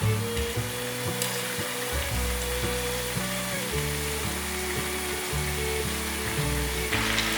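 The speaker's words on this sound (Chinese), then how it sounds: "先让豆腐用中小火慢慢的炸" Tofu deep-frying in oil over medium-low heat, a steady, close crackling sizzle throughout, with a few knocks and clatters from the pan or utensils.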